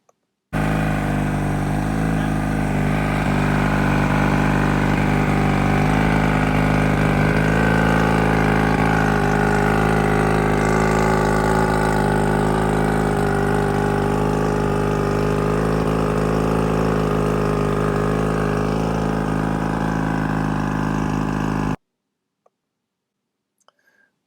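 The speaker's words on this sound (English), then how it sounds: "plugs are in, the engine's purring, and luckily no water is coming in" A 1969 Sidewinder boat's outboard engine idles steadily and loudly for about twenty seconds, with a low, even rumble, then cuts off abruptly into silence.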